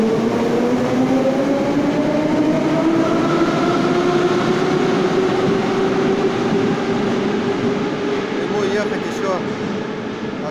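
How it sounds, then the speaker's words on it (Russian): A Moscow metro train departs Verkhnie Likhobory station toward Seligerskaya, pulling away with a rising electric motor whine and steady rumble, loud and close, continuous throughout. "Наш поезд отправляется в направлении Селигерской."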